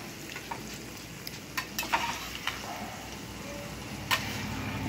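Pork sausage scooped from a sizzling pan of butter with the heat turned off, a steady frying hiss under scattered scraping clicks of a utensil against the pan.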